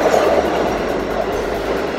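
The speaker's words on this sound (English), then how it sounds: "Here comes the train." A train pulls into a station, a loud close rumble with clattering wheels and a hissing, rushing wash that fills the whole moment, no voices.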